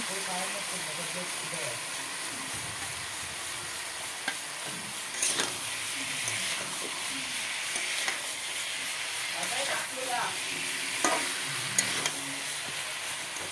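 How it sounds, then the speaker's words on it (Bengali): Cauliflower and potatoes sizzle together in a frying pan, a continuous soft hiss of frying broken by scraping stir strokes, close to the pan, with no talk over it. "তারপর দেখো, এখানে ফুলকপি আলু সব একসাথে ঢেলে দেওয়া হলো।"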